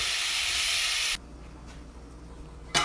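Onions and fennel sweating in a pot give a soft, steady hiss for about a second that cuts off abruptly into near quiet, followed by a short burst of hiss at the very end.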